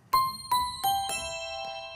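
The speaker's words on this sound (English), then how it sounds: "So here we have bell," Bell tones from the XPERIMENTA Due piano's instrument layer: four struck, ringing notes in quick succession with a long shimmering decay, clean and close with no talking.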